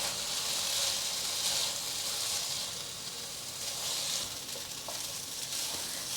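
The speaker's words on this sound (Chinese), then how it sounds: "持续翻炒到白米饭都变成有酱色了" Pumpkin and rice being stir-fried in a pan, with a steady, fairly loud sizzle and hiss that runs throughout and soft scraping as the food is turned.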